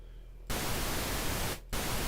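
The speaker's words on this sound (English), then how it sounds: "I want to start off with white noise" White noise generated in music software starts abruptly as a loud, flat hiss, then cuts out briefly and returns just as strongly. A low hum sits underneath.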